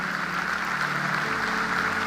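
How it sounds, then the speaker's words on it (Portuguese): A church congregation applauds the Lord, steady sustained clapping filling the room evenly from start to finish with no voices over it. "Dê uma palavra, um aplauso ao Senhor."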